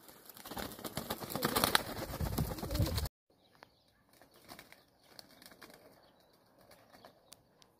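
Pigeons released in a flock burst into about three seconds of loud, close wing-flapping, followed by quieter scattered soft coos and rustles.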